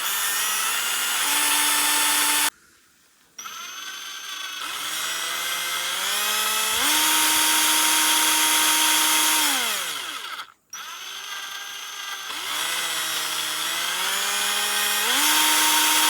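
A Black+Decker cordless drill with keyless chuck runs loud and close, its motor whine rising and falling in pitch as the trigger speed changes, with two short pauses between runs.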